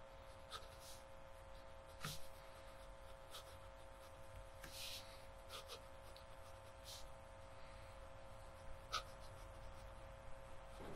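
An Aurora Optima O'Sole Mio fountain pen writing on paper, faint close scratching strokes and taps in short irregular bursts over a steady low background hum.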